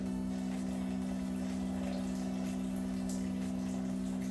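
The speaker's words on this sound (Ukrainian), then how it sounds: "Зараз додаю приблизно 105 грамів водички." About 105 grams of water is poured into a bowl of flour, salt and a little oil for homemade shawarma dough, a steady, even rush of liquid over a constant low hum.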